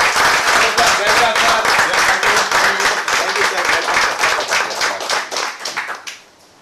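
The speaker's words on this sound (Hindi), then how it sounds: "जोरदार तालियों के साथ हम यहाँ पर इन्वाइट करेंगे" A hall audience gives loud, sustained clapping to welcome a speaker onto the stage at a business plan presentation, fading out near the end.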